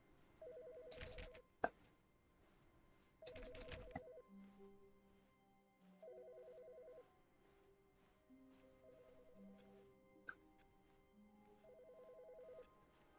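A telephone in The Stanley Parable keeps ringing in short electronic trills, about five rings spaced a couple of seconds apart, faint and distant, with a few sharp clicks and no voices.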